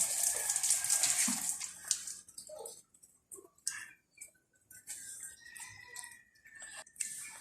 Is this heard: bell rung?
no